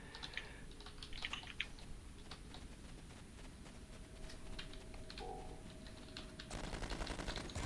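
Rapid bursts of auto rifle fire from the game Star Trek Online, quick crackling shots at low volume over a busy game soundscape, growing slightly denser toward the end.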